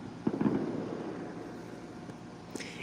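Fourth of July fireworks go off outdoors at a distance, with a short burst of muffled pops and crackles followed by a fainter bang amid wind noise.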